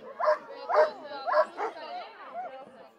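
Sled dogs at a World Cup sled dog race in snowy Madona yelp and bark in a quick series of excited calls, moderately distant and fading into whining yips.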